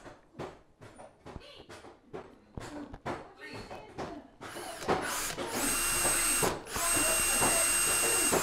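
A power drill whines steadily at high pitch for several seconds while drilling a 2.5mm hole in polycarbonate, preceded by scattered handling clicks and taps nearby.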